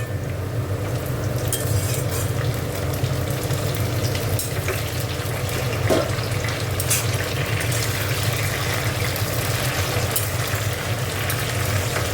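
Tomato added to onions, oil and a little sugar in a hot pan, frying with a steady close sizzle and occasional stirring scrapes, for Bengali aloor dum with new potatoes.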